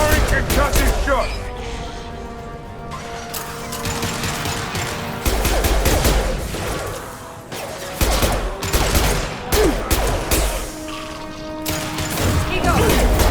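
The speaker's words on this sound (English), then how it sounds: "Firing concussive shot!" A concussive shot ability fires in Mass Effect 2 Legendary Edition, set within loud combat with repeated bursts of gunfire and heavy booms, and a voice calls out over the fighting.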